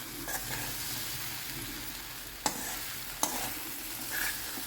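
A spoon stirs uggani (puffed rice upma) in a hot pan, with steady soft sizzling and scraping throughout and two sharp knocks of the utensil against the pan.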